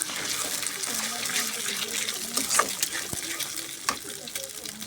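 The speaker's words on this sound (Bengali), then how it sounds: "কড়াইতে আমি দুটো ডিম দিয়ে দিলাম" Two eggs fry in a wok for winter fried rice, giving a soft, fairly faint sizzle with scattered crackles and a few utensil taps against the pan.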